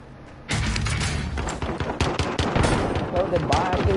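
Rapid gunfire from a pistol in an online multiplayer shooter, a burst of loud, close cracks in quick succession over game noise, with voices talking in the background.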